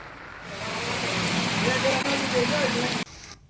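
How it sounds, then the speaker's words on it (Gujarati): Heavy rain pours down in the villages of Gujarat, a dense, even hiss that swells in for about three seconds and then cuts off abruptly, with faint voices just beneath it. "ધોધમાર વરસાદ શરૂ થયો છે"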